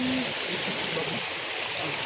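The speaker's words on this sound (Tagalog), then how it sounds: "Dumadaan din kami dito sa maliit na ilog." A small river flows as a steady, broad hiss of rushing water with no voices and no breaks.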